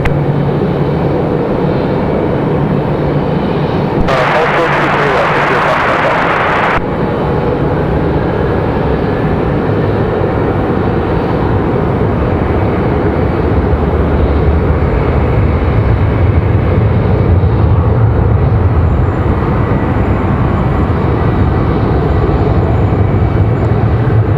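A Southwest Boeing 737-700 takes off from runway 23 left at Raleigh-Durham International, its engines a loud, steady roar that fills the whole stretch without letup.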